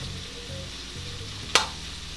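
Chopped ginger cooks in a hot pan with a steady, close sizzle, broken by one sharp clatter of a utensil partway through.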